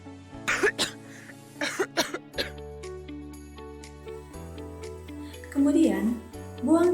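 Several wet coughs and throat-clearing bursts come in quick groups over a bed of soft chimes and tones, followed later by a voice speaking.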